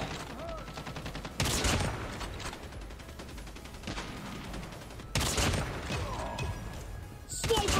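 Bursts of automatic gunfire from the DL Q33 in the game Call of Duty: Mobile, heavy volleys around the first, fifth and final seconds over steady mechanical clatter and ongoing battle noise.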